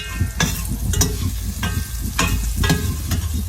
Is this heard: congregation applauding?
no